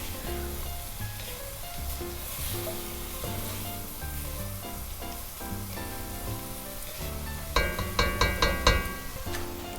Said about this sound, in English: So now you've got the bok choy in there with the celery and the onions. Let's just let that cook for a couple minutes.